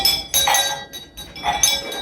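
Christmas bells from a festive shopping haul clink and jingle as they are handled, two bright bursts of metallic ringing close by, with a quieter gap between them.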